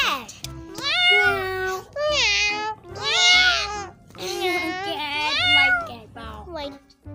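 A cat meows repeatedly in rising and falling cries inside a children's ABC phonics song, mixed with sung children's-style vocals over a steady backing beat.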